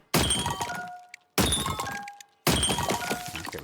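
Three separate crashes of glass junk shattering in the video game Trash Goblin, each a sharp smashing burst that rings briefly and then fades, spaced about a second apart.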